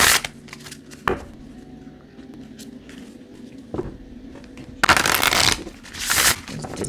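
Oracle cards for ancestral healing being shuffled, with soft papery riffles and taps scattered through the clip and two louder, dense bursts of card shuffling near the end.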